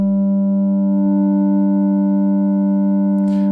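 Pittsburgh Modular Taiga synthesizer holding a steady, loud tone with a programmed fifth layered in, producing a sustained harmonic drone, alone, with a brief noisy burst near the end.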